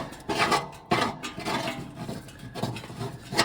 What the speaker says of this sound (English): get yourself a scraper and kind of clean off some of the big junk